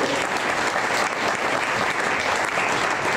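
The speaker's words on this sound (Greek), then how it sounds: "να καλωσορίσουμε με ένα θερμό χειροκρότημα στη σκηνή αυτούς τους 12 σπουδαίους ανθρώπους" A concert audience at a solidarity concert for Palestine applauds warmly as the musicians are welcomed to the stage: a dense, steady wash of clapping that holds at full strength throughout, without pauses.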